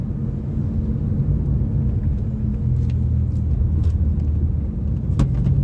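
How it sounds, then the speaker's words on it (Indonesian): Low, steady exhaust rumble from a Honda Jazz RS automatic, a continuous droning engine hum heard from inside the car while driving, with no talk over it. "Wih, knalpotnya gelundung-gelundung itu di belakang."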